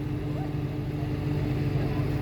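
A steady low engine drone with constant rumbling and water churn from a ferry under way on the Vistula River, continuous without pauses.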